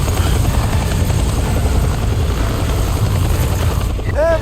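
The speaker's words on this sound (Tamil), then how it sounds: "கவர்மெண்ட் அனுப்பிச்ச ஹெலிகாப்டர் கரெக்டா வந்து சேர" Loud, continuous helicopter rotor roar in the video game Resident Evil 4, with heavy low chopping, nearby and unbroken, ending with a brief warbling electronic tone.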